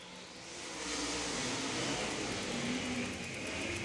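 ULMA late model race cars roar together at the start of an eight-lap heat race, a dense, steady wall of engine noise that swells quickly and holds loud throughout, with no clear voices on top.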